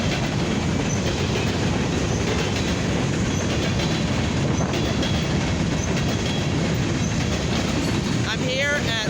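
A CFE westbound grain, mixed freight and steel train rolls past a road crossing in Convoy, Ohio, at night: a loud, close, continuous rumble with steady wheel clatter throughout.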